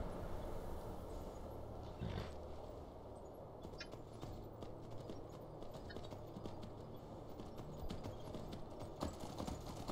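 Horse hooves clip-clop steadily in the video game Skyrim, a continuous trotting rhythm over a dense, busy in-game background of ambient noise.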